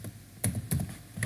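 Typing Java code on a computer keyboard gives short bursts of crisp key clicks in quick, irregular clusters, close and clear against a quiet room.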